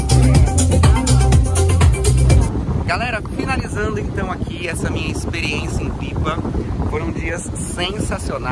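A boat motors through a saltwater mangrove near Pipa, Brazil, with a steady rumbling engine and water noise, strong wind buffeting the microphone and a person talking over it.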